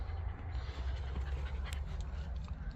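A dog pants quietly nearby, a soft rhythmic huffing breath over a low background rumble, faint and steady.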